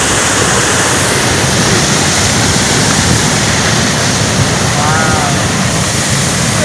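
Water spray from the Hogenakkal waterfall on a river, a loud, steady broadband rush of splashing and falling water that fills the whole scene with no pauses.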